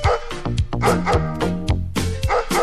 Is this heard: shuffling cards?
no